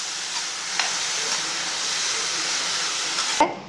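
Mint and coriander leaves fry in a pan with a steady, soft sizzling hiss that lasts throughout. A couple of faint stirring clicks come through, and no one speaks.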